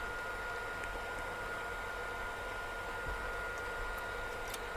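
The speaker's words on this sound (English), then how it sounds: "inevitably here is the Forstner bit" An older Ryobi Forstner bit, a small one, drills into wood with a steady, low, even whirring hum that stays constant and fairly quiet throughout, with no talking.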